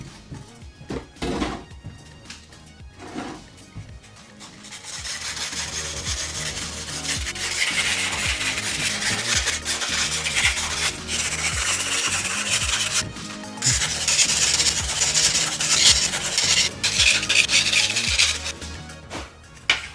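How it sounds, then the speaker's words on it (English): Sandpaper rubs back and forth over the ear of a Stormtrooper helmet, a close, continuous scratchy rasp after a few short opening scrapes, growing louder in its later strokes. "So sand them off first of all, see where we're at."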